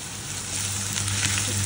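Chopped garlic and onion fry in hot oil for a dried fish curry, giving a loud, continuous, close sizzle with a bright hiss and a low steady hum underneath, no voices heard.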